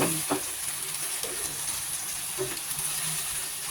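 Cornstarch sauce made with water and liquid seasoning is stirred in a cooking pan, giving a steady broadband hiss with a few soft scraping clicks throughout, fairly close and with no talking.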